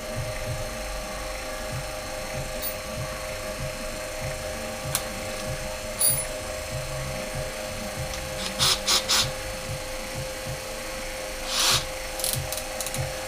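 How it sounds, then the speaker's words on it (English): A Bridgeport milling machine drills a 5mm hole: a steady motor hum with a tonal whine runs throughout, broken by a few short scraping and clicking bursts of cutting near the middle and end. "Just while I drill and tap"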